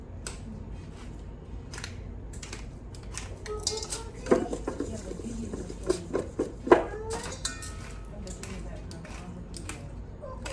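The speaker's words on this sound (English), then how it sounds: "I'm putting pepper on them, fresh crushed pepper." A pepper mill grinds fresh crushed pepper onto Brussels sprouts in a pan, a run of close, scratchy crunching twists with scattered clinks, while a person talks throughout.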